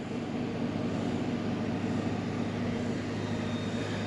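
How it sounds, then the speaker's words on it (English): A freight truck's air system builds pressure while airing up, a steady loud compressor drone and hiss that fills the whole stretch with no talking. "truck's just airing up now."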